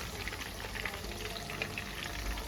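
Fish for a Lahori-style crispy fry cooking in a pan over medium heat, giving a steady, dense sizzle that stays even throughout with no voices.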